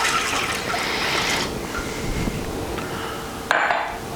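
Water pours into a pot for a pickling brine for brussel sprouts, a loud, steady rushing splash that changes pitch as it fills, then a sharp clink of the container.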